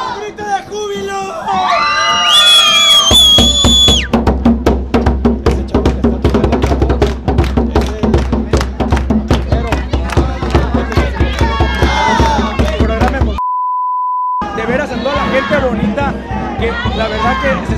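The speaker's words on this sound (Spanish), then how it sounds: "¡Grito de júbilo!" A large crowd shouts, whoops and cheers with joy at the arrival of the Virgin of Zapopan in a neighborhood procession, a loud, continuous roar of voices with rhythmic clapping and a brief pause before the cheering resumes.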